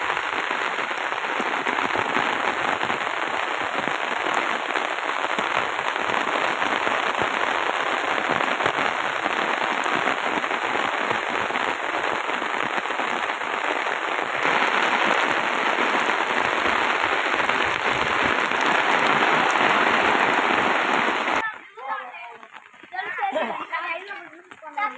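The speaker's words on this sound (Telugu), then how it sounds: "వర్షం అయితే బోర్న వర్షం విపరీతమైన వర్షం" Torrential village downpour in March, a dense, steady roar of heavy rain hammering surfaces for most of the stretch before abruptly cutting to quieter sounds near the end.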